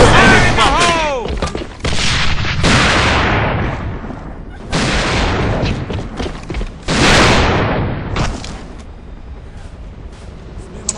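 Grenade blasts and rapid gunfire in the shooter game AVA, in an airplane map: loud booming bursts and crackling shots repeat across the whole stretch, with a shouted game voice near the start.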